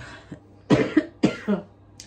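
Two close, harsh coughs in quick succession, each with a short follow-up, after a faint earlier hack; otherwise quiet.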